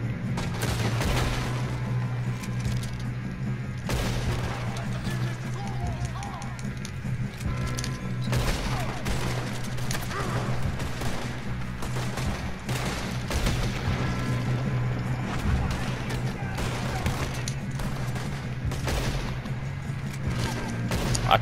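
Rapid gunfire fills a Red Dead Redemption 2 shootout, sharp shots cracking in quick bursts and steady volleys over a low droning bed for the whole stretch, loud and close with no talk.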